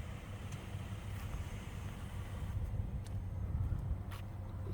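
A Nissan Murano with a blown head gasket, treated with K-Seal, runs on a test drive, giving a steady low engine and road rumble inside the cabin with no talk.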